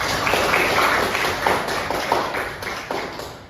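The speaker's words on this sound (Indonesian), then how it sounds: "nah boleh tepuk tangan" A classroom of students claps their hands in a dense burst of overlapping claps that stays fairly steady for a few seconds before tapering slightly.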